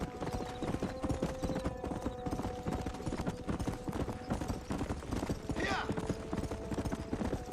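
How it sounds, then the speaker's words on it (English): Horse hooves clip-clopping in a fast galloping rhythm in the video game Red Dead Redemption, loud and continuous, with a brief whinny partway through. "That is a wonderfully agile horse you have there."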